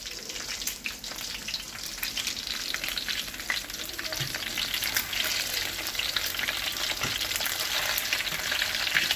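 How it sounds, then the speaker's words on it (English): Onion and pepper fry in a pan for a Jamaican-style chicken and mutton stew, giving a steady, close crackling sizzle with scattered pops that grows slightly louder over time, with no talking. "Now it's frying-ish here."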